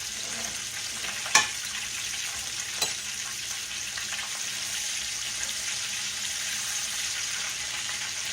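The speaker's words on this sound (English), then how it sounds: "It's frying up really, really good." A giant hush puppy fries in hot oil with a steady, dense sizzle and bubbling crackle, with a couple of faint clinks in the background.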